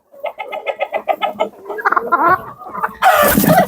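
Several chickens cluck in quick repeated bursts close by, with one louder, harsher squawk near the end.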